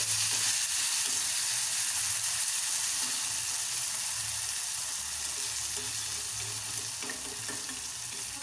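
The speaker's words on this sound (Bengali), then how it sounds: "তেলের মধ্যে দিয়ে দেবো। দেওয়া হয়ে গেলে একটু নাড়িয়ে ছাড়িয়ে নেব এপিট ওপিট করে।" Small marinated chuno fish fry in hot oil in a pan, a loud, dense, unbroken sizzle close up, with faint stirring scrapes underneath.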